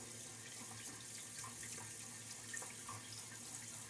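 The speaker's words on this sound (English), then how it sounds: "you can submerge it in the bowl of water here like I'm doing" A boar-bristle shaving brush rinsed and sloshed in a bowl of water, giving continuous soft splashing and trickling that stays fairly quiet and even throughout, with no voices.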